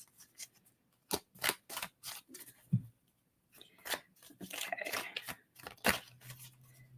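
Tarot cards are handled and shuffled close up in a run of crisp snips, riffles and scrapes of card stock, loud in spells with brief quiet gaps and no one talking.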